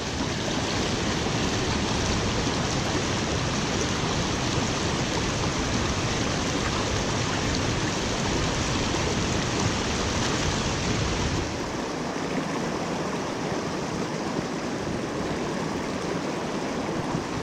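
A trout stream's current rushes loudly and steadily, a dense broad wash of flowing water that softens slightly partway through, with no voices.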